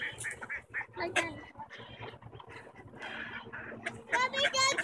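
Ducks quack and other fowl cluck nearby in a busy outdoor scene, the bird calls mixed with children and adults talking.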